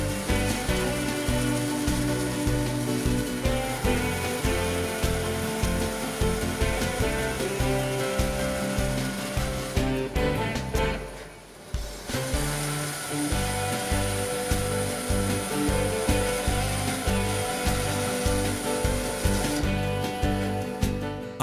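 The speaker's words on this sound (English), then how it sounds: "Working with the bandsaw table set at an angle, both of the round pieces can be cut out." A Hammer N4400 bandsaw with its table tilted cuts round wooden pieces at an angle, a steady loud machine drone with a brief dip partway through before cutting resumes.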